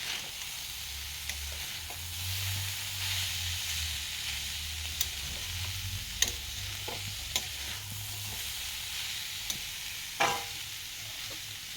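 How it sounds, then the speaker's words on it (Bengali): Bamboo shoots with salt and turmeric fry slowly in a pan, giving a steady, soft sizzle with a low hum underneath and occasional small clicks and scrapes from stirring, no voices. "ভাজা আস্তে আস্তে হইতেছে"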